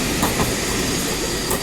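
Passenger train on Auckland's Southern Line, heard from on board as a steady, loud rumble of wheels and carriage with faint clicks of rail joints, continuous with no voices.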